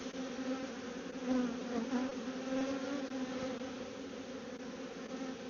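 Honey bees hum in a steady, dense drone while a beehive is opened for inspection. The buzzing is close and continuous with gentle swells, and no one speaks.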